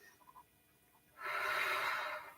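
Deep diaphragmatic breathing during a guided exercise on the back: a few faint soft sounds, then a long, steady, breathy exhale rising to a full, even rush that carries to the end, close and quiet.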